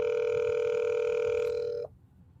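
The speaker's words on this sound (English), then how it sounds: "Let me see if I can call him." A steady electronic telephone tone sounds on a call line, holding one continuous, clear pitch for nearly two seconds before cutting off abruptly into quiet background hum.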